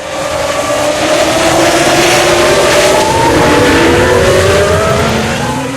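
Formula 1 race cars accelerate away as the safety car pulls off on a wet track, a loud sustained roar of engines rising in pitch and sweeping past, with no voices.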